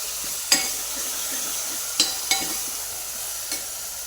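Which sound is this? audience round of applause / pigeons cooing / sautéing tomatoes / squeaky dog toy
sautéing tomatoes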